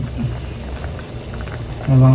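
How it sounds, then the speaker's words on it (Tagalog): Sinigang na midyad soup with pako fern leaves bubbling at a boil in a pot, a steady soft simmering bubble heard up close that swells louder near the end. "kumukulo na po itong niluluto kong sinigang na midyad"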